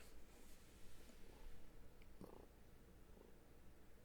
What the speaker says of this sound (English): I hear purring. I love it. Yeah, my cat is on my chest right now.